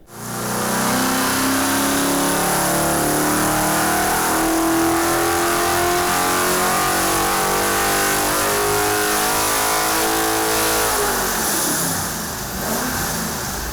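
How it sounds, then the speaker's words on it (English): A 331 cubic inch Ford Y-block V8 on an engine dyno revs hard and close, holding a loud sustained roar that climbs in pitch and then drops off near the end. "331 cubic inch, Y-block Ford."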